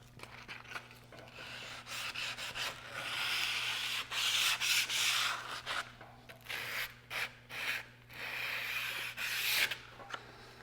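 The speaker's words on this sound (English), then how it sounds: "make sure you use the sandpaper at just a slight angle and sand just to take off that sharpest edge." Steady scratchy rasping of sandpaper rubbed back and forth on plywood edges, in bursts of strokes with brief pauses, close and fairly loud over a faint hum.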